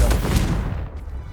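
Confringo explosion spell blast in the video game Hogwarts Legacy: a single loud booming burst with crackling debris that quickly decays into a low rumble.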